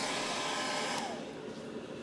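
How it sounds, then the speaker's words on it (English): A hair dryer blows over freshly made halftone artwork, a steady loud whoosh that drops a little in level partway through and keeps running to the end, with no one talking. "let's go ahead and use a hair dryer. We're going to speed up this drying process."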